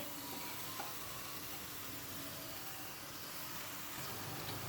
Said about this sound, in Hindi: कढ़ाई के अंदर सबसे पहले हम चिकन को ऐड करेंगे